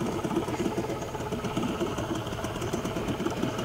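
A fishing boat's motor runs steadily on a catfish-angling trip. Its dense, constant drone is close and loud, with a fast, rough pulsing throughout and no speech.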